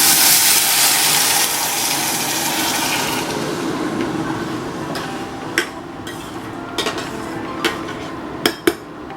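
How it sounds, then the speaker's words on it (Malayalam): A pressure cooker of parippu (dal) with water releases a loud, steady hissing whistle that gradually fades, followed by a few sharp metallic clicks and clanks near the end. "ഒരു വിസിൽ വന്നു കഴിഞ്ഞിട്ട്"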